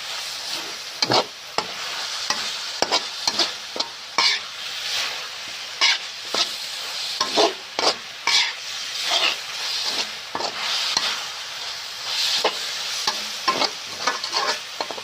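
Chicken and holy basil leaves stir-fried in a hot pan, with a steady loud sizzle and hiss broken by repeated scraping clatters of a spatula, close and without talk.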